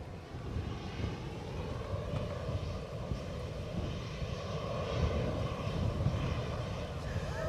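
An EasyJet airliner at Edinburgh Airport produces a sustained, moderately distant engine drone with a low rumble and faint tonal hum, swelling slightly toward the end while someone speaks over it.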